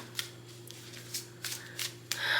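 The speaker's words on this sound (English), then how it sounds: "So I'm going to shuffle" Tarot cards being shuffled by hand, a few soft papery riffles and flicks spaced out over a steady low hum, ending in a longer, louder burst of shuffling.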